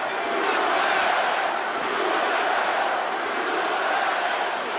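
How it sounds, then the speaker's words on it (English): Arena crowd at a UFC lightweight title fight, a dense, continuous roar of cheering and shouting that stays loud and steady throughout, with no pauses. "Crowd trying to get behind Poirier."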